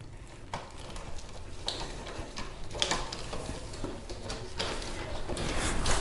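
A hand wrench tightens battery tray bolts on a Permobil power wheelchair, giving quiet irregular metallic clicks and ticks, close by and faint, with no talking.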